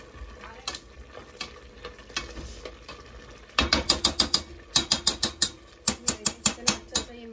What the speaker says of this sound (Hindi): किसी भी मेशर से लेके इसको हल्का हल्का सा ऐसे प्रेस करके हम इसको मैश कर लेते हैं